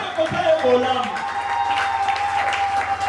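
A church congregation at an evangelical seminary claps and cheers together, a steady wash of applause with voices mixed in, fairly close and sustained throughout.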